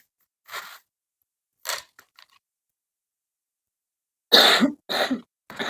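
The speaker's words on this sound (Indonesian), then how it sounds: "Mohon maaf ada suara-suara batuknya istri." A woman coughs in several short bursts, a pair early on, then a louder cluster of harsh coughs near the end, with quiet gaps between.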